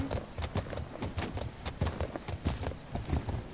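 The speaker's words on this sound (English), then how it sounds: "The horse sounds so heavy and realistic." Horse hooves clip-clop in a steady, heavy walking rhythm in the video game The Legend of Khiimori, close and clear over a faint ambient bed.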